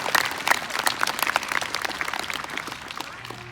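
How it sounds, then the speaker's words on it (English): An audience at a peaceful Black Lives Matter protest breaks into steady applause, dense and fairly loud throughout, slowly thinning toward the end. "Many of you are clapping"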